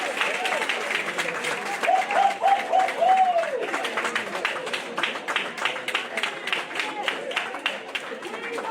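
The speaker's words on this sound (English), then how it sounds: "If you would hold your applause" Audience applause at a run-off candidate forum in Pine Bluff, a steady wash of clapping from the crowd lasting several seconds, with a voice briefly heard over it.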